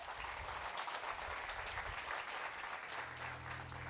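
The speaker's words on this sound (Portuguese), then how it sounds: "Vamos aplaudir Jesus." A church congregation applauds during a worship service, a continuous, fairly distant wash of clapping that holds steady for several seconds without speech.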